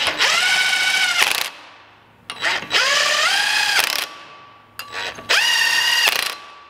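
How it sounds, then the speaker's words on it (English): Impact wrench or power ratchet tightening lug nuts on a Ford 9 inch rear axle disc brake conversion, three loud, close whirring bursts of about a second each, rising in pitch with rattling as each nut seats. "we're going to tighten all these down with some lug nuts."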